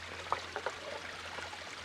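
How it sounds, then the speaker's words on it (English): Faint gurgling and trickling of stream water pushing down between two stones, with small irregular drips and bubbles over a soft continuous wash and a low steady hum. "gurgling stream here as well. So just how this pushes down through between 2 stones."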